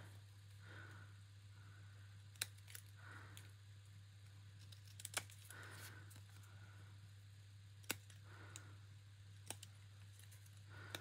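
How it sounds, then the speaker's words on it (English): Scissors trim small paper pieces in a quiet craft setting, giving a few sharp, separate snips spread over a faint steady background hum. "I'm going to try with my scissors."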